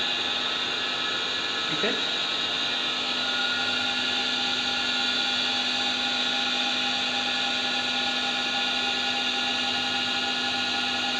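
An electric motor on a star-delta starter runs at a steady speed with a constant whine and hum. It holds an even pitch throughout, and a voice speaks briefly near the start.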